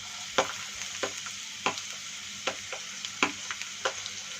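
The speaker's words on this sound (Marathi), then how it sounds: "तेल तापलं आहे, आता त्यात आपण कांदा घालून घेऊया पहिल्यांदा।" Onion frying in hot oil in a pan on a medium gas flame, a steady close sizzle with irregular clicks and scrapes of stirring popping out above it.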